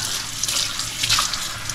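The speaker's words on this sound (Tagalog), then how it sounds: "Buksan natin yung gripo." Water runs steadily from a faucet in a continuous close hiss with a slight splashing texture and no pauses.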